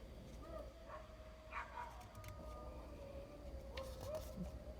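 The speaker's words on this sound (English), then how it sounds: "You hear the dogs howling?" Dogs howl faintly in the distance, a thin drawn-out wail rising and falling over a steady low background hum.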